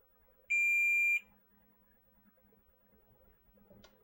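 A multimeter continuity tester gives one steady, clear beep of under a second while checking an N64 console's RGB mod wiring. Soft handling noise follows.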